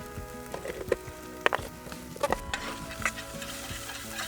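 Sauce cooking down in a pan on a barbecue, a steady close sizzle with a few knocks and scrapes of a utensil stirring through it.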